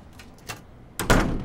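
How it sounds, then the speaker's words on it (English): A door closes with a soft thump followed by a heavier, louder thud, brief and fairly close, with no talking over it. "Could you close the door, please?"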